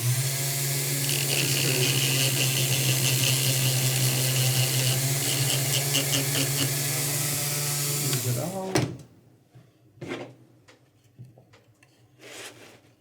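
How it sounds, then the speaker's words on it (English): A steady, high-pitched whirring grind of a fine-grit sanding wheel polishing a plastic pistol slide part runs loud for about eight seconds, then cuts off, leaving a few faint scrapes and taps. "going to a finer grit sandpaper, sanding wheel, and I'm just going to kind of polish this off"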